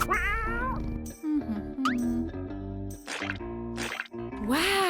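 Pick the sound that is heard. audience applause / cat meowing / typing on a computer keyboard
cat meowing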